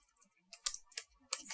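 A computer keyboard is typed on in a few quick, sparse clusters of light clicks, close and quiet against a silent background.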